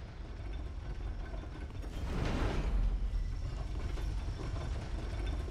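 A video game elevator mechanism grinds and creaks steadily, swelling louder around the middle before settling into a continuous mechanical rumble with no voices.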